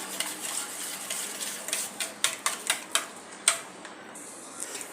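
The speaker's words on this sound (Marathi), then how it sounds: "अशा प्रकारे फेटून घेऊया जी स्मूथ पेस्ट दह्याची होईल" Yogurt whisked into a smooth paste in a bowl, a run of sharp ticking clinks from the whisk against the sides, close and fairly steady, tapering off near the end.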